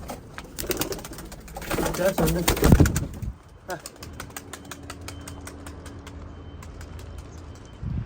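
Turkish tumbler pigeons flutter and coo nearby, with a brief burst of wing flapping and someone speaking briefly over the birds, followed by quieter cooing.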